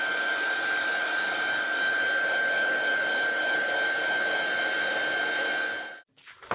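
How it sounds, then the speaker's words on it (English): A heat tool drying stamped ink on black cardstock blows with a steady close whirring hiss and a thin whine, cutting off near the end. "I'm just going to come in with the heat tool."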